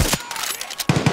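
Gunfire in the video game Far Cry 6, a short burst of loud rapid shots, then a brief lull before more close shots crack in at the end.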